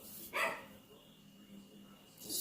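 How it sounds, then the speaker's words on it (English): Dogs bark indoors in a short burst, a couple of loud barks near the start and another at the end, with quieter room noise between. "Excuse my dogs, they're mad at somebody."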